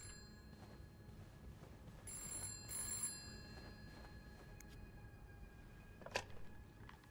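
A telephone rings faintly in the horror video game This Bed We Made, with a short burst of ringing amid quiet ambient room tone and a couple of soft clicks, with no one speaking.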